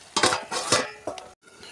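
A metal lid goes down over a pot of taro and meat curry, with a few close clanks and rattles of metal cookware in quick succession, then a brief pause.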